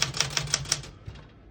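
Keys clack on a 1969 Smith-Corona Galaxie Deluxe vintage portable typewriter, five crisp evenly paced strikes close up, then softer fading clicks, with no talk.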